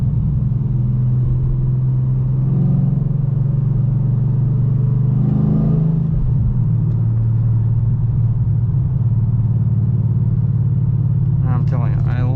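A car cruises in sixth gear at highway speed, about 80 mph at low RPM, with a steady low engine and road rumble running throughout and a brief rise in noise midway; no one speaks.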